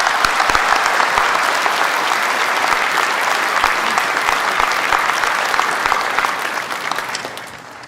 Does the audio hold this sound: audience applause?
yes